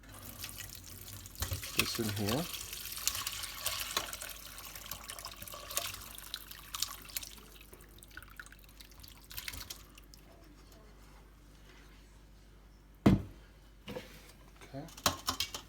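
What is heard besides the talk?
liquid poured through a fine strainer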